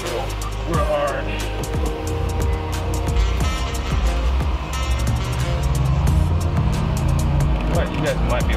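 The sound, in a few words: Porsche Taycan Turbo S accelerating hard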